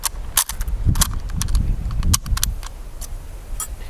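Yugo SKS M59/66A1 rifle fires 7.62x39 rounds outdoors, a string of sharp, loud cracks at irregular intervals, roughly a dozen shots with short echoes between them and no speech.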